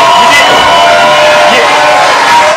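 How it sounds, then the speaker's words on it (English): A political rally crowd cheers and shouts after a speech about winning an election, a dense, loud roar of many voices sustained without a break. "They're cheering"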